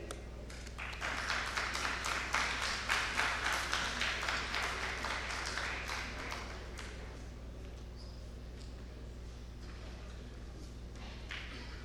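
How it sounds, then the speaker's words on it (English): A conference audience applauds after a short presentation, a sustained wash of clapping from many hands that swells for several seconds and then thins into scattered claps and room noise. "Let's give her a round of applause"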